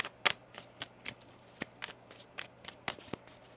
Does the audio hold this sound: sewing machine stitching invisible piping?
no